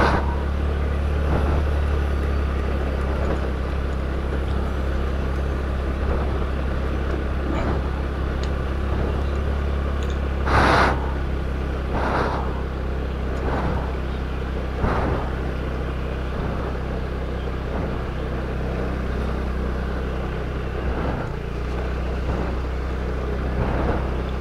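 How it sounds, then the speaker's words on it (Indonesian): A motorcycle labors slowly up a steep mountain slope road, its engine giving a low steady drone under heavy wind buffeting on the microphone, with occasional louder bumps and rattles along the way. "Mulai bisa melaju lagi motor saya."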